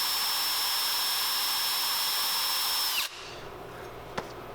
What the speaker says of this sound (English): I like to use about a 1/16 inch bit. There's already a hole in there, but I like to open it up a little bit.